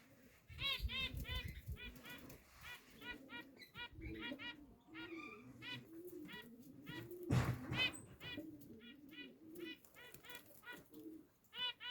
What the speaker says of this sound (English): Where are these pigeons going to hold their poxy line?